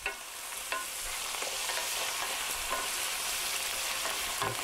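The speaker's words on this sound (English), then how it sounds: "we're going to let that saute for a while" Black olives and other ingredients sautéing in a pan, a loud, constant close sizzle with faint stirring scrapes and a few soft knocks, no voices.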